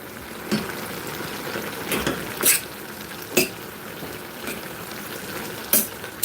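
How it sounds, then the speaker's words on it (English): Jamaican chicken back with potato cooks in a pot, giving a soft, steady background sizzle broken by scattered sharp clinks and scrapes of a utensil against the pot, fairly quiet and with no voice. "That's why I saute this off"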